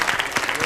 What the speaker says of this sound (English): A round of applause once again for Ceri Evans.